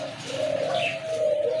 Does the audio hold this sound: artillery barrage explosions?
no